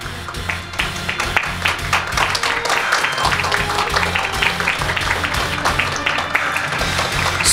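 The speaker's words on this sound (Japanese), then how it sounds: "皆様、盛大な拍手でお迎えください。" A crowd at a kickboxing press conference claps to welcome a fighter, a steady patter of applause at moderate level with a low hum underneath.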